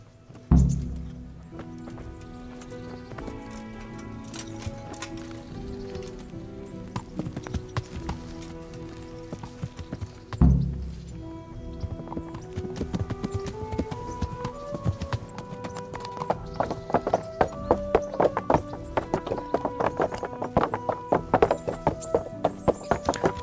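Rhythmic horse hoofbeats clip-clop steadily over background music in the video game Kingdom Come: Deliverance, growing faster and busier toward the end.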